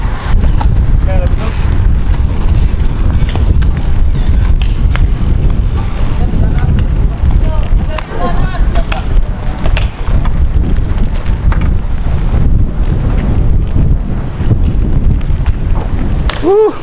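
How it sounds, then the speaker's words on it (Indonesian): Stormy mountain road during the Taiwan KOM 2024 cycling race, with strong wind buffeting the microphone and heavy rain rushing in a loud, continuous roar throughout. "hujan, anginnya kenceng banget"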